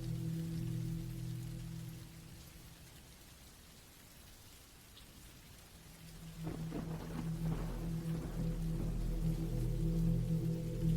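Steady rain falling on a surface near a campsite in the woods, a continuous hiss that dips quieter for a few seconds, then swells back with low rumbling tones like distant thunder.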